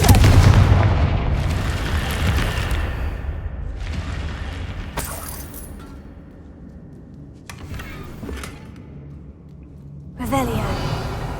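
Confringo blasting spell cast during Hogwarts Legacy gameplay, heavy booming blasts and explosive bursts rolling through a busy game soundscape, with a sharp crack near the end.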